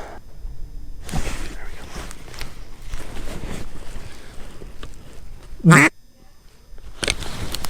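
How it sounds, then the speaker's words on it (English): Teal ducks fly in low over the water during a public-land kayak duck hunt, with scattered duck quacks, including one loud, close call, amid breezy outdoor noise and bits of talk. "Had a couple teal buzz in."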